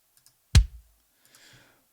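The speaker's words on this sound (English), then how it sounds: "I'm using the Guru kick drum, which definitely has a bit more of a rock sound to it on the close mic" A single soloed kick drum hit, close-miked from a Guru kick drum with a rock character: one punchy low thump with a short decay, fairly quiet and surrounded by silence.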